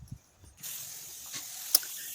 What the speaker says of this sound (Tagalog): Nag-spray at nagdilig ako ng mga seedlings.